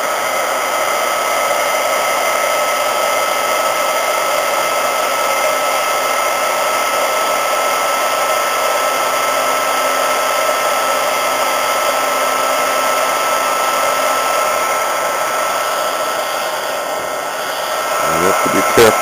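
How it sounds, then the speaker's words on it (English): An embossing heat gun blows steadily and loudly while reflowing SMT solder on a circuit board, a continuous whirring fan-and-air roar that holds for the whole stretch with only slight changes near the end. "So it's time to start up the embossing gun and add a little additional heat."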